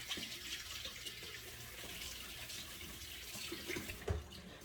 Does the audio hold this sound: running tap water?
yes